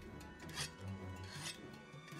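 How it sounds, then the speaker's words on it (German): Weapon being sharpened on a whetstone in Monster Hunter World: two rasping scraping strokes against metal, soft and close, with no voices. "Okay, das heißt, Waffe schleifen."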